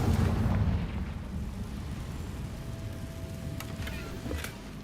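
A Confringo blasting-spell explosion in Hogwarts Legacy opens with a heavy, deep boom that rumbles and fades over a few seconds, leaving a quieter low rumble behind.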